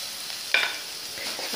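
Crushed ginger and garlic frying in a pan, a brief close sizzle with a sharp hiss and a light scrape partway through, no voices.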